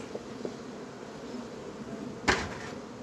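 Honeybees drone in a steady, soft buzz while a beekeeper works through the colony's hive frames in summer. A single louder knock or scrape of wood sounds near the end, and nobody speaks.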